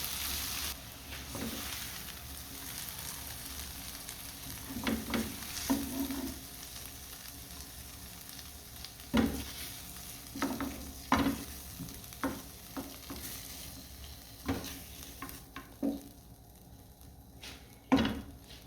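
Vegetables sizzle in a pan while a spatula stirs and scrapes them in repeated bursts, the clatter growing more frequent toward the end.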